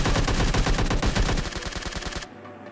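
Rapid bursts of gunfire from a PUBG Mobile Lite match, an enemy firing a shotgun in a close fight, with loud dense repeated shots that thin into spaced blasts before cutting off abruptly.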